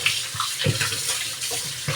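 Tap water pours and splashes steadily over chicken pieces being washed and squeezed by hand with salt and turmeric, with wet handling sounds close by and no talking.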